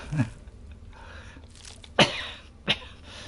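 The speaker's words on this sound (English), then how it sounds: "Don't start the coughing again, don't start the coughing." A few short, sharp coughs, one early and two louder bursts later, standing out over a quiet background murmur.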